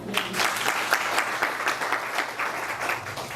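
Audience at a book launch event claps and applauds together, a dense stream of overlapping hand claps holding steady and fairly loud for a few seconds with no talking.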